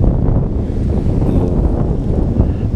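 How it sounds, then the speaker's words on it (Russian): Strong wind buffets the microphone outdoors beside a small river in the southern taiga, a loud, steady low roar with gusty rumble throughout and no talking. "ветер, сейчас стоит отвернуться туда, все задувать будет"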